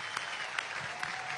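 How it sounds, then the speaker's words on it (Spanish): An audience applauds at a political ceremony marking the 15th anniversary of the Frente Francisco de Miranda in Venezuela, with dense, steady clapping filling the whole moment. "vamos a darle un aplauso a Ginel Sinaí Saldaña Olivero."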